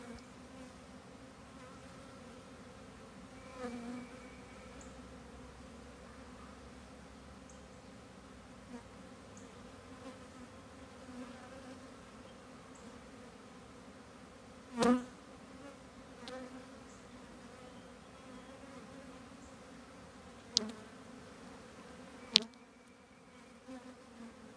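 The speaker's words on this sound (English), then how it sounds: "This swarm was wrapped all the way around this birdhouse, and then there was even a few on the inside." A honey bee swarm clustered around a birdhouse and tree trunk outdoors, a low steady drone of buzzing that continues throughout, with a few faint clicks and bumps rising above the hum.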